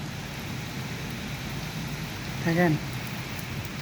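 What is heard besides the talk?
heavy rain and storm wind in Oman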